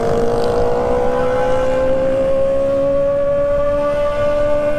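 A Honda Hornet motorcycle with a straight exhaust pipe rides at night, its loud engine holding a steady, slowly rising drone close by throughout, with no talk.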